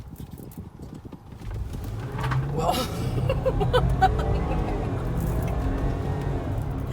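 A 2015 Land Rover LR4 HSE with a 340-horsepower engine accelerates hard from inside the cabin, a low engine roar building and holding, with a floor mat sliding in the back and a brief exclamation from an occupant.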